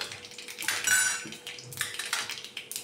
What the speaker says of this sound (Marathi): आता त्याच कढईमध्ये पोहे परतून घेतोय।